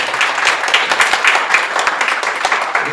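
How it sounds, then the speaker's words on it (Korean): A congregation at a Saturday night prayer meeting bursts into steady applause of thanks, a dense continuous patter of clapping close by with no one speaking. "우리 한 번 더 하나님께 감사의 박수로 올려드렸으면 좋겠습니다."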